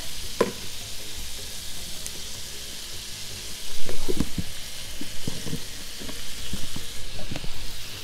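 Chicken and chard sizzle steadily in a hot pan while flour is stirred in. A spoon scrapes and clacks at irregular moments, and the frying grows slightly louder partway through.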